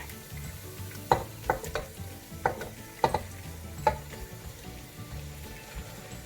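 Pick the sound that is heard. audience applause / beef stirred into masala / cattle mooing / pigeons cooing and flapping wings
beef stirred into masala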